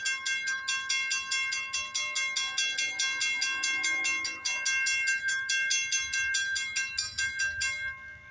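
Bells at a railroad crossing ring in a fast, steady, metallic clang that repeats evenly for about eight seconds, close and clear, with a faint low rumble beneath.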